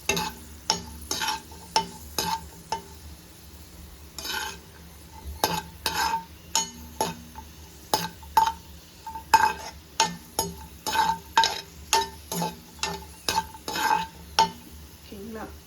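Cashews for paal payasam fry in a pan while a spoon stirs them, giving a steady run of clinks and scrapes over a low sizzle, close by and without speech.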